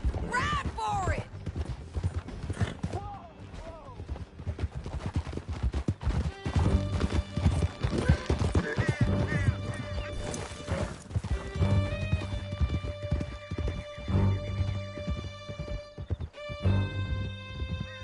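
Horses gallop away through a canyon, with quick, dense hoofbeats and occasional whinnies. Shouting voices and a busy action soundtrack run over them.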